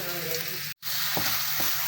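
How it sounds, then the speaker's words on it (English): Onion fries in oil in a pan for a chicken gizzard dish, a dense, loud sizzle with a brief gap and a couple of soft stirring scrapes. "fry first the onion and then we put the tomato"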